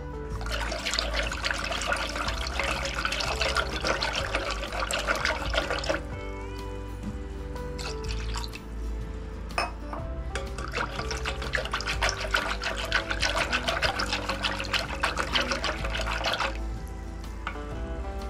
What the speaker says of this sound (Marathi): आता आपण त्याच्यामध्ये पाणी घालून घेऊयात।